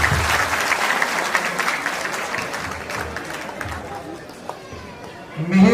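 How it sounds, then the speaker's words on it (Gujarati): Sustained applause from an audience at an Ahir Vaniya family gathering in Surat, steady dense clapping throughout with crowd chatter mixed in, swelling slightly louder at the very end. "એક જોરદાર તાળીઓથી વધાવીએ બધાને"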